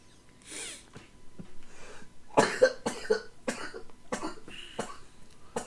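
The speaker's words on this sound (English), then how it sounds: "I love the open mouth coughing again." Several open-mouthed coughs burst out close and loud, spaced irregularly through a few seconds, the strongest in a quick cluster midway, with quieter breathy sounds between.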